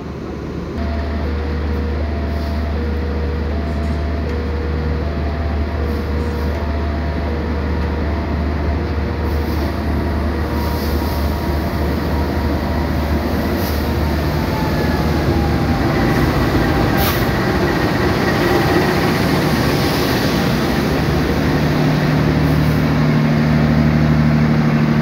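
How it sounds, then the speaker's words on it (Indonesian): The Lodaya passenger train, with first-generation stainless steel cars coming from Solo, arrives on single track at Sidareja station in Indonesia, a steady rolling rumble and engine drone heard from aboard a waiting train for the whole stretch. "Lodaya pagi dari arah Solo sudah masuk di stasiun Sidareja, dan rangkaiannya masih menggunakan stainless steel generasi pertama ya."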